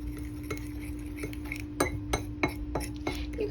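Turnover dough being mixed with milk in a bowl, a utensil knocking and scraping against the dish in several sharp irregular clinks over a low steady hum, close and fairly quiet.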